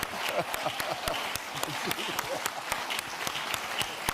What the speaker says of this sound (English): Look at the clap. Justin was clapping hard.